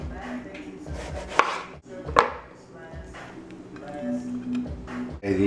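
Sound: knife slicing tomatoes thin

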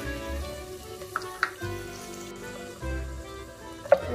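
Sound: chopped garlic sautéing in butter and olive oil

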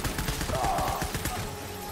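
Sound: gunfire in the video game Death Stranding

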